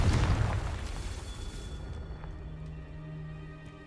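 A single Confringo fire-blast spell explodes in Hogwarts Legacy, a loud booming burst at the start that rumbles and slowly fades away.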